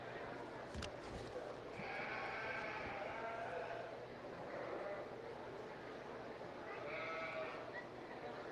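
Southdown yearling ewes bleat faintly in a county fair livestock arena, a few drawn-out calls rising over a low, steady murmur of crowd and room noise.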